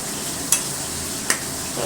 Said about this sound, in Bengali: নুন হলুদ দিয়ে নাড়া দিচ্ছি